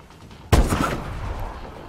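A single loud gunshot bursts out sharply partway through a Call of Duty: Advanced Warfare campaign firefight, leaving a reverberant rumbling tail that fades over the next second.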